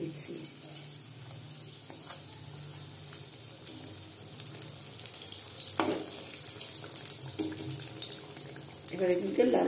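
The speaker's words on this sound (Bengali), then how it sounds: "এবার এগুলোকে লাল লাল করে ভেজে নেব।" Prawn and potato pocket chops frying in hot oil in a pan, a steady soft sizzle and bubbling with occasional louder crackles, close up and continuous.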